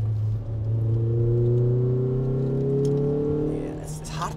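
A 20-year-old JDM Honda Accord Euro R CL1 with an H22 engine pulls along the road, its engine note droning steadily and rising slowly under load before easing off near the end; no talking.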